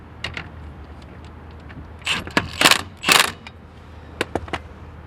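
A lug nut is threaded by hand onto a steel car wheel: faint, scattered metallic clicks and a few brief scraping rattles, close by, in an otherwise quiet setting.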